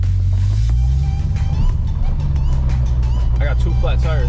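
A Dodge Redeye Hellcat drives on two flat tires, its engine a loud, steady low rumble that dominates throughout, with a voice faintly audible over it.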